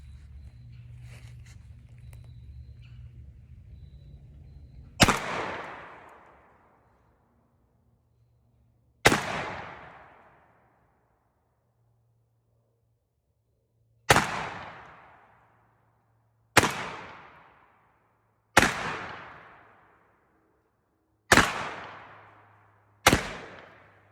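A 12 gauge shotgun fires seven loud, sharp rounds at a target outdoors, spaced irregularly a few seconds apart, each with a short ringing decay. A low hum runs beneath the first few seconds, with no talking.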